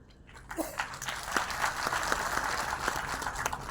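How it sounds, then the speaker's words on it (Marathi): Steady applause from a crowd, many hands clapping together in a dense, sustained wash with a few sharper claps standing out. "बघा इतक्या टाळ्या कोणाला पडल्यात का"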